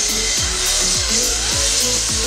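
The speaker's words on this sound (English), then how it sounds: "we've got the old Harbor Freight cylinder hone on the drill" A Harbor Freight cylinder hone spun by a drill scours an engine's cylinder bores during a Ford F250 engine rebuild, giving a steady loud whirring grind with rhythmic dipping scrapes as the hone strokes up and down.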